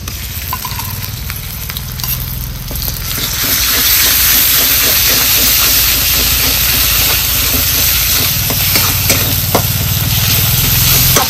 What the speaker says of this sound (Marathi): आता ही वाटलेला मसाला टाकायचा.